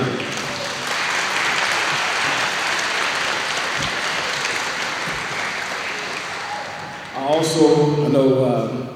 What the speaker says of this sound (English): so we want to clap it up